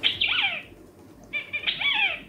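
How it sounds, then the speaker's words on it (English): Two short electronic quacking calls with a gap between them, thin and bright like a toy's speaker, no talking, from an Enabot Rola Mini robot pet companion. "like a duck quack,"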